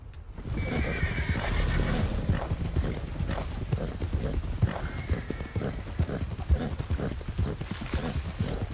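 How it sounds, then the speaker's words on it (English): Galloping horse hooves in Red Dead Redemption 2 pound in a steady, dense rhythm throughout, with occasional whinnies and faint game background sounds. "Horse's stamina's holding up pretty good."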